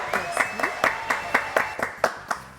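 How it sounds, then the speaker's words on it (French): Scattered, rhythmic hand claps from a small audience welcoming a guest onto a stage, a couple of seconds of distinct individual claps. "Voilà, applaudissements pour Bunny."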